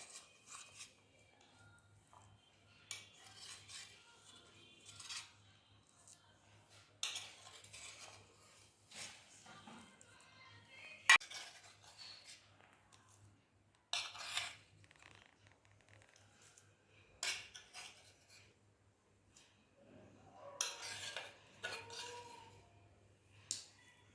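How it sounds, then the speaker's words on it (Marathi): A spoon scraping and clinking against a plate while steamed sago papads are loosened, quiet scattered scrapes and taps with one sharper metallic knock and a faint steady hum underneath. "तर चमच्याच्या साह्याने त्या पापड्या अशा छान सोडवून घेणार आहे आणि व्यवस्थितरित्या कागदावरती काढून घेणार आहे."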